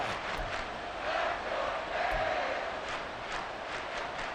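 Steady, distant stadium crowd roar from a Madden NFL 24 football game, a continuous wash of noise swelling slightly without any voices standing out.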